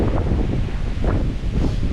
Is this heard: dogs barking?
no